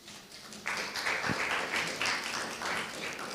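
Workshop audience applauding a participant, a burst of clapping that starts abruptly and continues steadily, moderately loud in a room.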